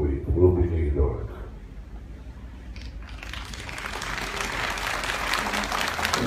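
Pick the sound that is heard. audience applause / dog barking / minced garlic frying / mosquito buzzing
audience applause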